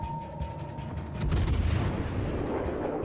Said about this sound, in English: And it looks like I can still hit him with the back guns.